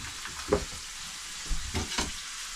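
Peppers fry in oil with a small knob of butter in a home kitchen, a soft steady sizzle with a few louder spatula scrapes and bumps scattered through, close by and without talk.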